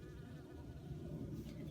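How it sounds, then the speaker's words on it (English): Honeybees and native bees buzz around the flowers of bolted garden greens, a faint, steady hum with no voices. "There's bees all over this, both honeybees and native bees."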